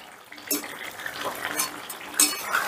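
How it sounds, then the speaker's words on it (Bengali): Chicken being stirred and sautéed in a pot for chicken rice, a close sizzle with scraping and clattering of a spoon against the metal at irregular intervals. "চিকেনটা মিনিট 2-এর মতো কষিয়ে নিলাম।"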